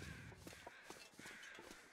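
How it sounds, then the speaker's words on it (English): Crows in the survival video game The Long Dark, several harsh caws repeating in quick irregular bursts, faint and distant against a windy, hissing ambient background. "Now I hear crows going nuts"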